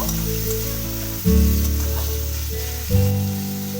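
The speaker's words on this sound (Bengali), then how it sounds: "সেটা দিয়ে দিলাম এবং সেটাকেও খুব ভালো করে একটু নাড়াচাড়া করে কষিয়ে নেব" Chopped tomato frying in hot oil in a pan while being stirred for a masoor dal tadka, giving a loud, steady sizzle with two sudden surges as the pan is stirred.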